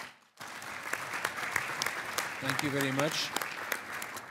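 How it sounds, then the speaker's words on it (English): An archery congress audience in a meeting hall gives quiet, sustained applause that starts abruptly, with a brief spoken thanks over the clapping. "If you can acknowledge that by an applause."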